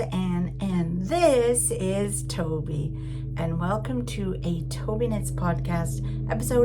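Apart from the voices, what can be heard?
None of the usual background noises is heard.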